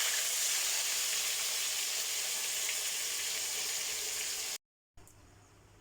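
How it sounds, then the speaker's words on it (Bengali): Paneer frying in hot oil in a wok hisses and sizzles steadily at moderate level, broken by a brief silence before a quieter stretch. "তো আমার তেলটা গরম হয়েছে, এর মধ্যে আমি পনিরগুলো তো ভাজবো"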